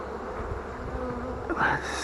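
Honeybees buzz steadily during a February hive inspection, a continuous close drone with a brief louder burst near the end as a bee passes by.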